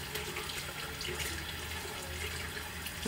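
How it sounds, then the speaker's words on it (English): Warm water runs steadily from a sink tap while someone washes their face, a continuous close splashing hiss with a brief louder splash at the very end and no talk. "normally I wash my face with some warm water and Tone"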